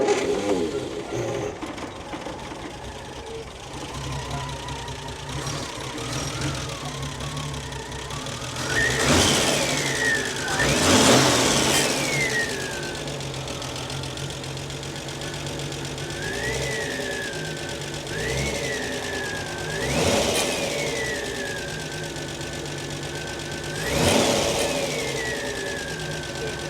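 A Triumph Spitfire GT6 engine with running issues idles close by and is revved repeatedly, the pitch rising and falling in several separate blips, with voices talking around it.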